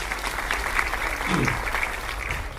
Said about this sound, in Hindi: उसके लिए भी जोरदार ताली बजाइए